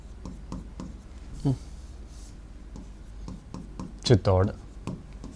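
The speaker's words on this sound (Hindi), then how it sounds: "तो इस बात को हम लिख लेते हैं।" Pen on paper or board as notes are written during a Hindi-language lecture on Rajput history: a run of soft, scratchy strokes and taps, with a few louder scrapes near the end, quiet and close.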